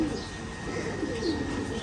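Ferozpuri pigeons kept at a home loft in Bangladesh, soft low cooing heard faintly over a steady background hum, close but quiet.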